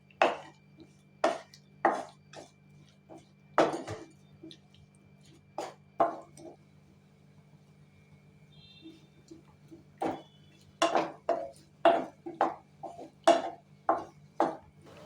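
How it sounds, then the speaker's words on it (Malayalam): Potatoes and chili powder mixed in a pan with a utensil, heard as sparse, close scrapes and clinks in irregular bursts, with quiet pauses between, and no talking. "ഇനി സ്റ്റവ് ഓണാക്കിയിട്ട് മുളക് പൊടിയും ഉരുളക്കിഴങ്ങും നല്ലോണം മിക്സ് ആക്കി എടുക്കാം"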